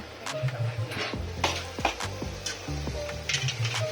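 Spoon scraping and stirring through vegetables frying in a large pot as ground spices are mixed in during a big-batch Bengali cooking session, with soft sizzle under repeated close clattering strokes.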